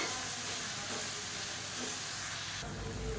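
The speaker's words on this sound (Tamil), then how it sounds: "இந்த இலை வந்து சுருங்குற அளவுக்கு வதக்கினா போதும்" Mint and coriander leaves sautéing in a pan give a steady, continuous hiss and sizzle at moderate level, brightening and growing louder near the end, with no talk.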